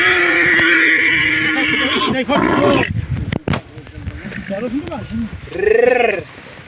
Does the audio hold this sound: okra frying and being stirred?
no